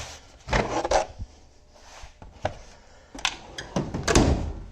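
A drawer on a US General 56-inch metal tool box being pulled open, heard as a few scraping slides and thunks spread over several seconds, close by and fairly loud.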